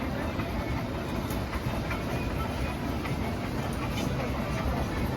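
Amusement park train at Lotte World Adventure Busan rolling out, a steady rumbling, clattering noise that stays loud and close the whole time, with no talking over it.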